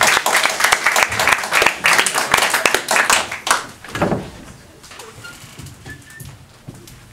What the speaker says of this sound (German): dein Applaus, bitte schön